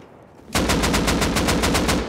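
An AK rifle in the video game Rust fires a fast automatic burst of about a dozen loud, evenly spaced shots right after a short quiet moment.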